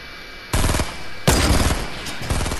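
Fortnite gunfire, a near, loud burst of rapid automatic shots followed by a second longer burst and a few trailing shots, with no talking.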